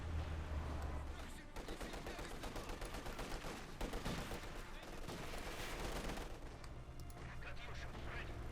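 Dense, continuous gunfire from light machine guns rattles through a Company of Heroes 2 battle between German and Soviet forces, with overlapping bursts and distant artillery booms filling the whole stretch.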